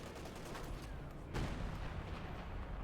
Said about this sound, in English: All blind firing it seems here.